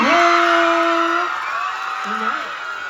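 An audience whoops, screams and cheers loudly and continuously at a cast appearance event, a dense crowd roar with high sustained shouts.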